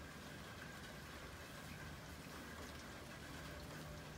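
Light rain falls steadily at about 4 a.m., a soft, constant hiss of drops with no distinct pattern, faint and unbroken throughout.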